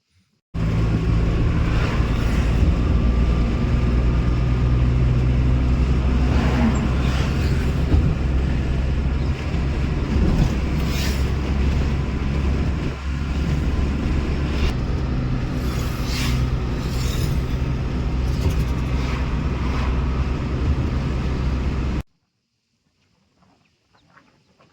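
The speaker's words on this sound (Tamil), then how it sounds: "இப்போ இந்த வண்டியோட ரன்னிங் கண்டிஷன் பார்க்கலாம் வாங்க." A 2006 Maruti 800 petrol car's engine runs in steady, even operation, with a continuous low hum and faint background sounds like birds. The sound stops abruptly toward the end, and no one speaks.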